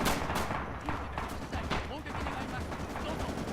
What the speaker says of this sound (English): the commander has just called in some artillery